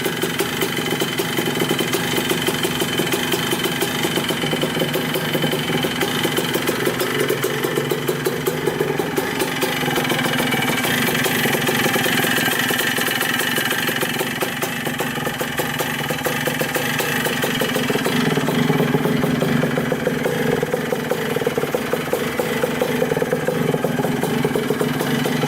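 A Suzuki RM 125 two-stroke dirt bike, left sitting for 15 years, idles close by with a continuous, buzzing, slightly uneven engine note that swells a little near the end.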